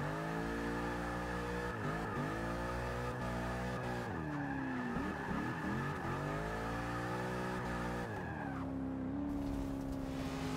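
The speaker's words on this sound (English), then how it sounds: "both cars aggressively entering, but Stan's able to soak up more of the over" Two drift cars enter a turn at Lime Rock during a 2017 ESDA drift competition, engines revving hard with long, loud tire squeals that rise and fall as the cars slide.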